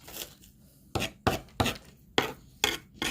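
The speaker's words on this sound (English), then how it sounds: "All right, I think we are ready to add our onions." Chopped onions dropped into guacamole in a bowl, a series of soft, close thuds and scrapes in an irregular rhythm.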